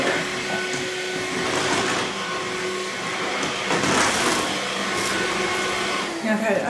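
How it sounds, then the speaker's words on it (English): A cordless 2-in-1 stick vacuum cleaner with HEPA filter runs steadily while pushed far under a bed and furniture, a loud continuous motor whine and airflow hiss that swells slightly as it moves. "another thing that I like about this vacuum is that it's so flexible"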